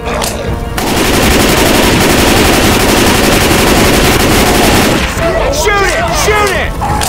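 Sustained rapid gunfire fills a Left 4 Dead 2 fight against the Tank, loud and continuous, then breaks off into scattered shots and game effects; shouting voices are heard over it.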